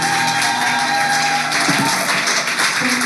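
A church congregation cheering and applauding for the Lord at a Sunday service, a dense continuous wash of clapping and crowd noise, loud and close, with voices mixed in.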